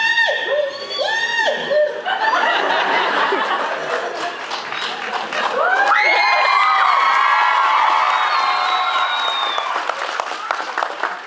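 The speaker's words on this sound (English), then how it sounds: "Zim runs out with a cheering Gurr and squeaking Moose." Cheering, whooping and high squeaky cries, performed by voices at a script reading, burst out first in short yelps and then swell into a sustained group cheer.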